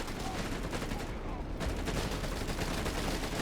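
MP40 submachine guns fire at close range in Company of Heroes 3: dense, continuous rattling bursts with a brief dip in the middle, then the firing resumes under faint voices.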